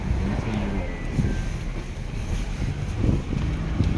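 Constant rushing wind buffeting the microphone on a speeding boat on a lake in a tiger reserve, with a low engine-like drone beneath and faint voices in the background.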